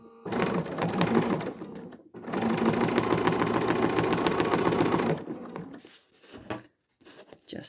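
A sewing machine stitches rapidly during free motion quilting for a thread-painted art quilt, two loud steady bursts of needle chatter separated by a short pause, then quieter stops and starts.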